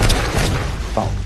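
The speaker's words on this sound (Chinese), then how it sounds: "税银坠河去而爆炸" An explosion sound effect in a story about stolen silver blowing up after falling into a river, a deep booming thud at the start that trails off into a low rumble, followed by a brief faint sound.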